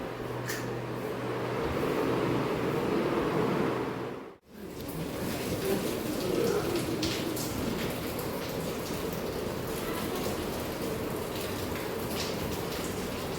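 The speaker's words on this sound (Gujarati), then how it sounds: "મોડ મોડ વરસાદે ચાલુ થઈ ગયો" Steady rain falls continuously, a dense broadband hiss of drops on surfaces, with a brief dip partway through before resuming at the same level.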